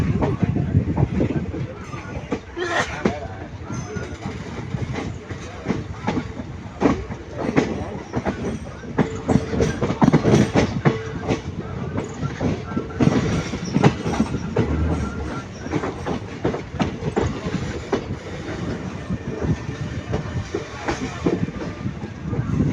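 General-class passenger train from Erode to Kannur running steadily, with continuous wheel rumble and rhythmic clickety-clack over the rails, loud and close throughout, with faint voices underneath.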